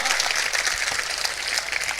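Dense audience applause fills a large pavilion at a patriotic Hindi poetry recital, a steady loud wash of clapping with no gaps from start to finish.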